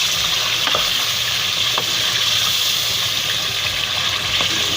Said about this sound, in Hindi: इसको हम तकरीबन 5 मिनट तक इसको अच्छे से हम भून लेंगे